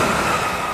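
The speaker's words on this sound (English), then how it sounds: "This is just the train pass." A train passes as a sound design effect, a brief, loud, dense rushing roar with steady rail noise throughout.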